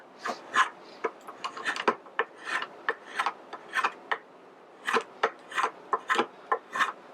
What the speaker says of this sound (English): when we're doing long planing cuts, use the draw knife